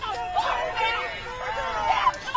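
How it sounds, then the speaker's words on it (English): Protest crowd shouting in unison outside a gate, a dense mass of raised voices rising and falling in overlapping waves, loud and continuous with no single voice standing apart. "Most people in the crowd shouting,"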